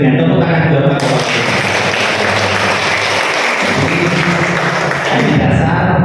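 An audience at the opening day of a Salatiga regional government training event applauds the head official, steady dense clapping filling the room throughout, with a brief dip in the middle.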